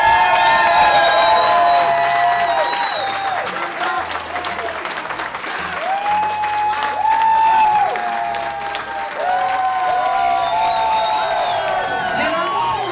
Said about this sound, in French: Je pense qu'Alex mérite encore une fois de main d'applaudissement.